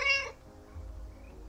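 A calico cat lets out a short, clear meow, close and fairly loud, followed by low rumbling background noise with no speech.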